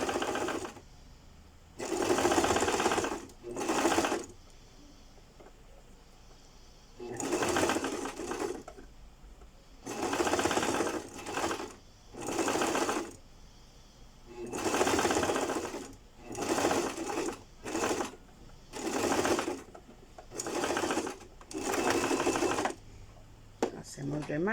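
A sewing machine stitches a princess-cut bodice seam in many short and medium bursts of close mechanical whirring with brief stops between them, while someone talks in the pauses.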